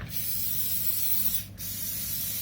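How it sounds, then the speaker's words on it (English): A continuous hissing spray from an aerosol can of cooking spray on a muffin tray, pausing briefly once before resuming, close and steady. "I'm just going to very quickly give this a bit of a spray"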